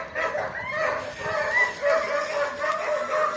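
Dogs yip and bark repeatedly in high, whiny bursts, sounding excited and somewhat distant, over constant background noise.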